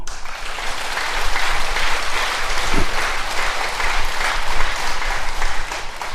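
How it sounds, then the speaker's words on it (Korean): A church congregation claps together in a steady, moderately loud round of applause that holds evenly from start to finish, with no voices over it. "우리 박수 좀 쳐줘요."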